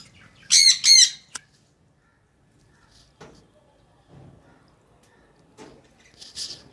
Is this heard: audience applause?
no